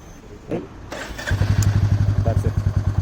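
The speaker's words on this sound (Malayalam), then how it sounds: "ഇങ്ങനെയാണ് പുതിയ വണ്ടി സ്റ്റാർട്ടാക്കുന്ന ഒരു രീതി" A Royal Enfield Meteor 350 motorcycle clicks, cranks and starts, then drops into its rhythmic, thumping single-cylinder idle, loud and close.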